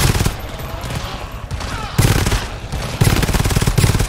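Automatic turrets firing nonstop in a cooperative horror shooter game, a dense, loud, rapid stream of gunfire with stepped surges in intensity, and voices faintly underneath.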